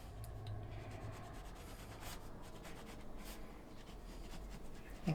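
A pencil sketches on paper beside a model railway build, giving soft, close scratching and rubbing strokes in an irregular rhythm over a quiet background, with no talking.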